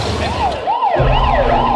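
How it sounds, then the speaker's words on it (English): A loud ambulance siren wails in rising and falling sweeps on a New York street, close by, with a low rumble of traffic underneath and no talking. "The ambulance takes Meir Kahane, who is gravely wounded, to Bellevue Hospital"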